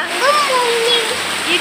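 Steady rain hisses and splashes outside a rented home, a dense continuous wash of water sound with voices, including a child's, talking over it.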